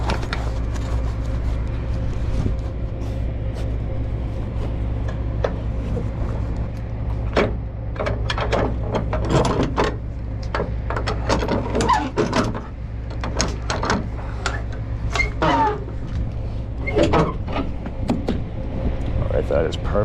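Winch on a flatbed truck being tightened against a cargo strap, with sharp irregular ratcheting clicks and clanks over a low idling engine hum, while someone talks throughout.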